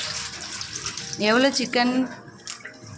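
Tap water runs steadily while raw chicken is rinsed for a home-cooked chicken gravy, with a person speaking briefly over the splashing.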